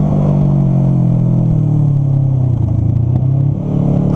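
A Kawasaki Ninja 650 motorcycle ridden hard, its engine droning loud and close at high revs, the pitch easing slightly then holding steady, with wind rush around it.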